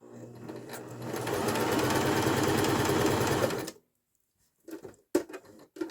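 A Babylock Zest sewing machine stitches forward and then in reverse in a fast, steady mechanical whir that stops abruptly, followed by a few scattered clicks and handling noises.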